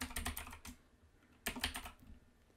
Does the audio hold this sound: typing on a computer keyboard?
yes